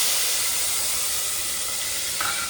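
Tomatoes hitting hot tempering oil with cumin in a village-style vegetable dish, giving a loud, steady steamy sizzle and hiss that holds without a break, with a brief brighter flare near the end.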